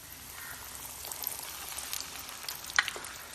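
Chicken pieces for homemade KFC-style fried chicken go into hot oil, making a soft, steady frying hiss with scattered crackles and one sharper pop near the end.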